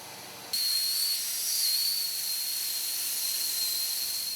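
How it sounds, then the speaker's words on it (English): A hot air welder blows onto plastic seams while making racing rubber duck pontoons. It switches on abruptly into a steady, loud hiss with a thin high whistle running through it, and no voices are heard. "There's no glue required in this process, only hot air to melt the plastic"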